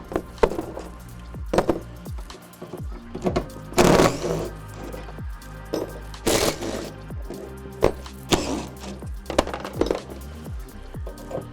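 T40 bolts are backed out of the tie-down points in a 2023+ Ford Ranger bed, with irregular metallic clicks, ratcheting and clinks, punctuated by a few louder knocks and clatters.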